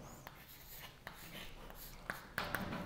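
Pen strokes from writing an equation down by hand in a math lesson, a few soft scratchy marks and sharper taps near the end, faint and close with no talking.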